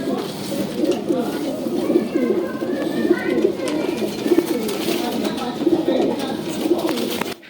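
Large pigeons with single tails in a pigeon keeper's loft cooing steadily, a dense, continuous layer of overlapping low coos close by that carries through the whole stretch.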